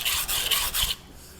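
A knife being sharpened on a 200 grit Nano Hone ceramic whetstone, giving a close, gritty rasping scrape in several quick strokes before falling quiet.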